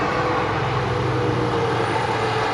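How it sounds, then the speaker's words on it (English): A steady, loud rumble of a train heard at Rogers Pass, British Columbia, continuous broadband roar with a low mechanical drone, no pauses and no voices. "I definitely hear a train"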